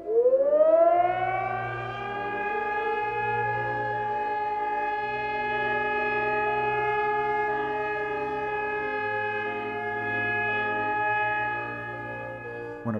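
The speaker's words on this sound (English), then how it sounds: "or an air raid siren alerts him in time of danger." A loud air raid siren wails, rising sharply in pitch and then holding a long sustained howl, alone with a faint low hum beneath.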